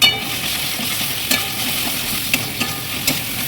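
Spice masala of coriander, cumin and Kashmiri chili powder being stirred and sautéed in a pan for chicken varta, a steady close sizzle broken by scraping spatula strokes and occasional clicks.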